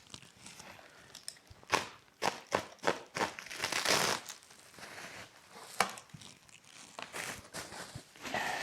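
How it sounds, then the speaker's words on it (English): Packing tape on a taped-up shipping box is cut and pulled away in a series of loud ripping, crinkling bursts, with quieter rustling handling in between. "Now it's going to be taped up. I'm going to struggle to get the tape off."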